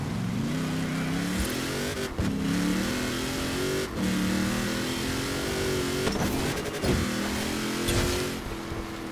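1993 Toyota T100 Baja truck in Forza Horizon 4 on Fortune Island, its engine revving hard through repeated rising gear pulls with brief dips at each shift, loud and continuous, with no talk.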